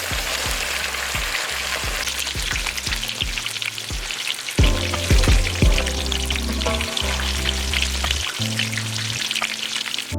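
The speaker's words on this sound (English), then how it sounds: "My fish is going straight into the pan." Fish pan-searing in a hot pan after a light dusting of rice flour gives a steady, close sizzle and crackle that runs throughout, mixed under a tonal music bed with shifting notes.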